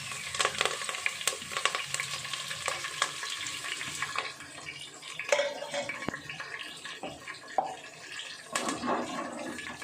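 Black pepper, cumin, cashews, ginger, curry leaves and green chilli sizzle and crackle in hot oil for ven pongal tempering, a faint steady frying hiss with occasional pops and a utensil stirring.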